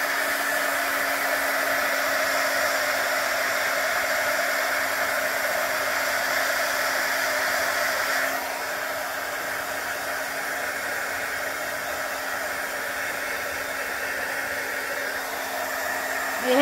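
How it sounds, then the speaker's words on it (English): A heat tool drying craft paint on a Christmas card blows as a steady, loud, close whooshing hiss with a faint tone, its pitch dipping slightly about halfway through, no talking. "but for this time I'm going to dry it with the heat tool."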